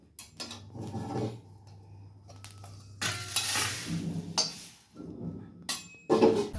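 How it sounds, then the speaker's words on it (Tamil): Parboiled rice dry-roasting in an iron pan while being stirred, giving a steady scraping, rustling rattle with bursts of grainy hiss and occasional clinks, close and moderately loud, with no talking. "இந்த அடுத்த ஷிஃப்ட்டு போட்டு வறுக்கிறோம் இது புழுங்கல் அரிசி"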